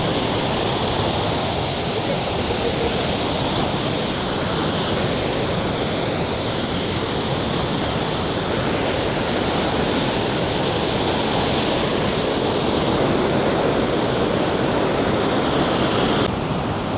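Vøringsfossen waterfall in Norway roars as a loud, continuous, broadband rush of falling water, steady throughout with no voices.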